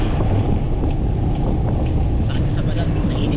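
A cool breeze blowing outdoors on a hot, sunny day, heard as a strong, steady low rumble of wind buffeting the microphone for the whole moment.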